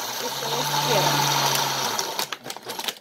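A Princess House blender runs at higher speed with a steady close whirring motor drone, then winds down into clattering noises over the last second.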